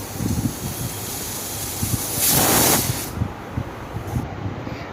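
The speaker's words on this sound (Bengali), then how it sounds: "তো আলুটা প্রেসারে সিদ্ধ বসিয়ে দিয়েছি।" A pressure cooker boiling potatoes lets off a single loud burst of steam hiss lasting about a second, rising out of a low rumbling kitchen background, close by and with no talk.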